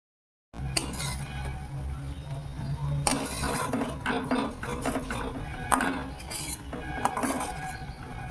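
A spoon stirs pasta sauce made with salt, sugar, lime juice and sauce in a pan, producing close, irregular metallic clinks and scrapes over a low background hum.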